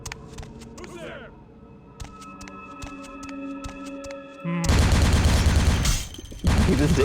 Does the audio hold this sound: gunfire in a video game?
yes